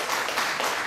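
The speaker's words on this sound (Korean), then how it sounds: "박수 한번 주시죠." Seminar audience applauding in a lecture hall, a dense, steady wash of many hands clapping throughout the short moment.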